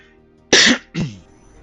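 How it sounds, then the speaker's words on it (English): A man coughs once sharply and then clears his throat in a second, shorter burst, both close and loud against a quiet background. "Sorry for my coughs and such."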